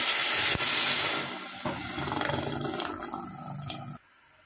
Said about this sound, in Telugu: నీళ్ళంతా బాగా మరగని